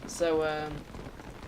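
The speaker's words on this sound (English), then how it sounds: "oh, rain stopped, everyone." Steady rain falls in the video game Don't Starve (Reign of Giants), a soft, even hiss of drops running under a man's brief spoken word.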